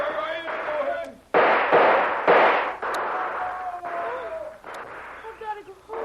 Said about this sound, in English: Now they're shooting wild, trying to cover their advance.